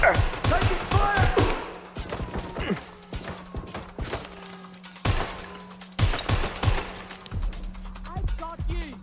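Gunfire bursts from the video game Watch Dogs Legion, sharp repeated cracks and short automatic volleys spread across the scene, loud and close, with players talking over and between the shots.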